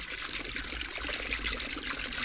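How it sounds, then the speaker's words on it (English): Blue coolant is poured into the cooling system of a Mercedes C300 during a water pump replacement, a continuous close trickling and gurgling stream of liquid. "So you start pouring it in here,"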